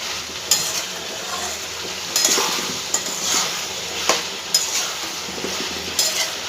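Chopped tomato sizzling in a hot pan while being stirred with a utensil, a steady frying hiss broken by repeated scraping strokes every second or so, close and loud.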